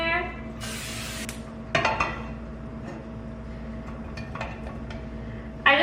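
Short hiss of cooking spray misted onto a pan while tofu is being prepared, one brief burst standing out against a quiet kitchen with faint clinks before and after.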